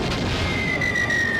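A cannon fires during an airship battle in the Skies of Arcadia Legends video game. The boom rumbles loud and continuous through the short moment, with a thin high tone ringing over it.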